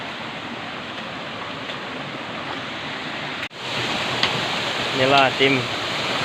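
A two-tier waterfall roars as a steady broad rush of falling water, continuous and fairly loud, with someone speaking briefly over it near the end.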